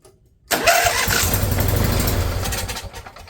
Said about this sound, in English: We went from dead engine to this thing look like it's going to start.